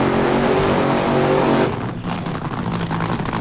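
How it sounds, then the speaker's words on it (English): Joe Amato's Valvoline top fuel dragster roars through a burnout at the 1995 NHRA Winston Select Finals in Pomona, a loud, steady, harmonic engine blare that cuts off abruptly partway through, leaving a rougher, lower rumble. "Burnout completed for the Valvoline machine."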